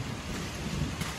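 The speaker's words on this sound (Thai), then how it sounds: "เมื่อฝนมาแล้วนี่มาทั้งลมทั้งฝนทั้งฟ้านะคะ" A rainstorm with wind roars as a dense, steady wash of rain and gusty noise, with a low rumble underneath but no distinct thunderclap, continuous and fairly close throughout.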